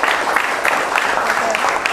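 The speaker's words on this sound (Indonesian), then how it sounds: "Tepuk tangan untuk kita semua." Students in a junior high classroom clap together in a short, brisk burst, close and fairly loud, with some voices underneath.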